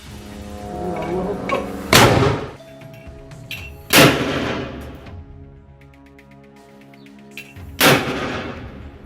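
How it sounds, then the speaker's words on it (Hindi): Three sharp, loud blasts spaced a few seconds apart as Hamas fighters fire rockets from launchers toward Israeli forces in eastern Jabalia, Gaza, over a steady droning engine hum. "हमास के लड़ाके लॉन्चर्स में रॉकेटों को भरकर दनादन इजरायली फौज की तरफ दाग रहे हैं।"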